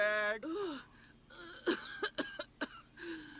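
A cartoonish Sims video game character coughs in a few sharp, short bursts, with a brief whimpering vocal sound before it.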